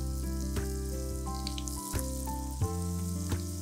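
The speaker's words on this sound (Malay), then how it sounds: "Ulanglah goreng sampai bancuhan kita habis." Corn fritters frying in a wok of hot oil give a steady, close sizzle with scattered pops and crackles, alone without talk.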